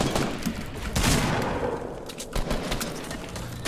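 Rapid gunfire from a battle-royale shooter match in duos mode, dense bursts of shots crackling close and loud across the whole stretch, with a heavy cluster around the middle and no speech over it.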